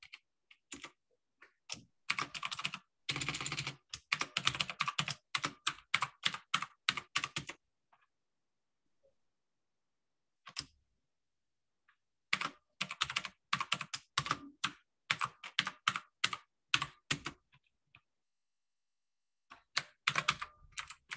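Rapid typing on a computer keyboard in bursts of quick clicking keystrokes separated by silent pauses, close and fairly quiet, with no talking.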